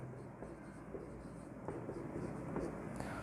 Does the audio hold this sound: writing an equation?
yes